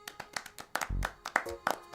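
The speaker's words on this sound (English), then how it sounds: "Everybody clap for Matt." A few scattered, uneven hand claps sound close by in a quiet room, sparse and irregular, with a brief low thump in the middle.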